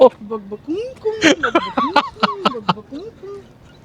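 A voice makes a string of soft, warbling coos and hoots, imitating a pigeon, with brief breathy giggles between the calls.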